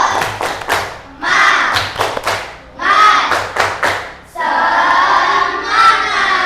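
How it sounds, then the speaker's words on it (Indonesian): An audience at an Indonesian Islamic religious talk performs the rhythmic 'tepuk semangat' spirit clap: loud, close groups of quick claps alternating with a crowd chanting together, repeated over several cycles. "Tepuk semangat."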